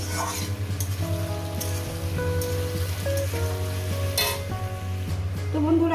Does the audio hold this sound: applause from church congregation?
no